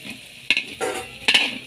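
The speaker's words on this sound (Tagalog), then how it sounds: "Ito, halo na lang ng halo eh." Pancit noodles stirred in a pan, a scraping, sizzling sound in a few strong strokes with quieter frying sizzle between them.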